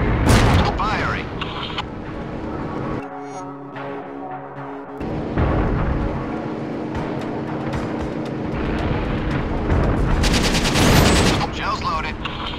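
Heavy main gun fire and gunfire in a desert combat scene from Syphon Filter: Logan's Shadow, with repeated loud blasts and bursts over a steady engine hum, while voices speak throughout.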